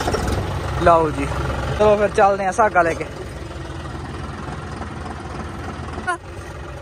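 A John Deere 5305 tractor idles with a steady low engine rumble. Someone talks over it at first, and a brief metallic clunk comes near the end.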